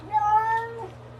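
A freshly bathed cat wearing a harness lets out a single drawn-out, whiny meow, close and fairly soft, lasting under a second.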